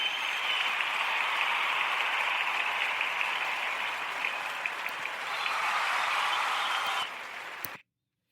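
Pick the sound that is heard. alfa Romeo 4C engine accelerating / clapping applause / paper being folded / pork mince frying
clapping applause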